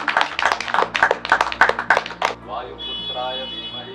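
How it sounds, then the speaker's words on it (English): Yoga teacher-training students in Rishikesh clapping together, a brisk burst of hand claps for about two seconds that gives way to a sustained ringing tone. "so clap for yourself."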